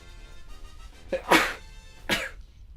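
Two sharp sneezes about a second apart, close and fairly loud, over a quiet room background.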